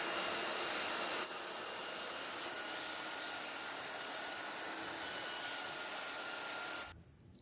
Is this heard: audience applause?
no